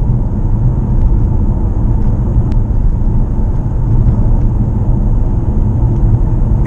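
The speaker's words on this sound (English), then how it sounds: "I can just hammer the car because this appointment is only a couple of kilometers away." Mitsubishi plug-in hybrid car driven hard on a short local trip, heard from inside as a loud, steady low rumble of engine and road noise with no break.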